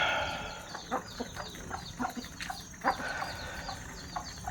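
Several chickens clucking close by in short, uneven bursts, a busy flock chattering over a low steady background hum.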